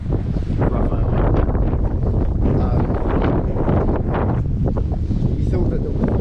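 Strong wind buffets the microphone at a campsite in Senja, Norway, a continuous loud roar with gusty swells and no letup for the whole stretch.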